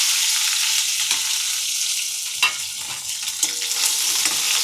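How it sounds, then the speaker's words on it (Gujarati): Gunda berries hit hot oil with popped mustard seeds and asafoetida and are stirred, giving a loud, steady sizzle with scraping spoon strokes and a few sharper knocks, with no voices. "હવે જે આપણે આ ગુંદા લીધા છે એ આપણે આમાં નાખી દેવાના."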